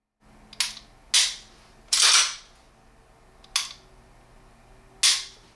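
Dry-firing a SIG P220 Compact single-action pistol produces five sharp, close metallic clicks spaced irregularly through an otherwise quiet room.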